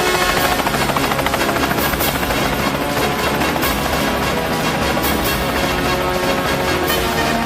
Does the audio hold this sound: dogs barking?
no